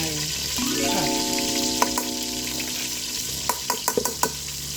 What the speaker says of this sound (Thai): ผัดให้มันสุกก่อนเนาะ